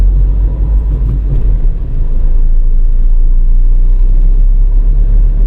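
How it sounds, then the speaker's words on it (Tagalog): Dense northbound road traffic on EDSA near Guadalupe, Makati and Mandaluyong City, a loud continuous low rumble of car engines and tyres with no pauses. "Ito ang reality ng buhay ng EDSA. Traffic dito sa lokasyon"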